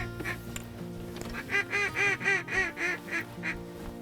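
Wild waterfowl call near a duck hunting blind on icy Hoopers Island, with a run of about eight goose-like honks in quick succession at moderate distance over a low background hum.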